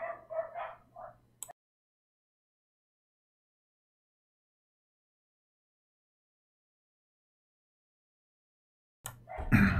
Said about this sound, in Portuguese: Cachorrada do vizinho.